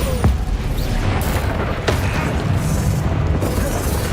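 Bombarda spell explosions in Hogwarts Legacy, a deep sustained boom with sharp crashing bursts near the start and middle, loud and dense amid the battle din of the video game.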